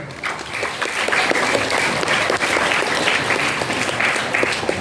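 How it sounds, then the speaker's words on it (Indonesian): A crowd applauding steadily at a Maulid Nabi celebration, many hands clapping together in a dense, sustained patter that holds at an even level from start to finish. "Tepuk tangannya."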